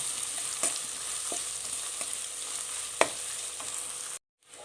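Onions and finely chopped ginger sauté in a pan for pulao, giving a steady sizzle with occasional stirring clinks and scrapes, close up and alone, before cutting off abruptly near the end.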